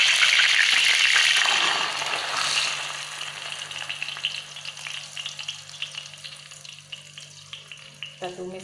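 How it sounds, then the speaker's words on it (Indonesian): Ground spice paste for a jackfruit curry (gulai nangka) sizzles loudly as it is stir-fried in a pan. The frying is strong at first, then settles into a softer crackle with scraping stirs. "Masak ya guys, kita tumis ya guys."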